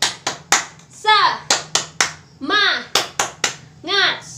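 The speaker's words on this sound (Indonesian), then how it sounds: "Yuk kita tepuk semangat yuk." Children at a Sunday school service do a rhythmic spirit clap, sharp claps in a quick patterned beat broken by short shouted chants from the group, loud and close.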